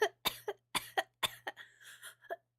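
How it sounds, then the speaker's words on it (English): A person coughs repeatedly near the microphone, a burst of harsh, dry hacks in quick clusters followed by a throat-clearing rasp, loud and close against silence. "I'm sorry for coughing ASMR"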